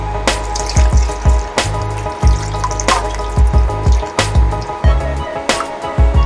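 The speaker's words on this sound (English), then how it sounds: "Add some little water." Water poured from a tap into a pot of marinated spare ribs for adobo, a loud steady splashing stream broken by several sharp clunks and knocks at the sink, with no voices.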